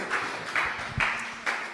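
A church congregation claps together in a steady rhythm, sharp broadband claps landing roughly every half second, moderately loud, with no voices over them.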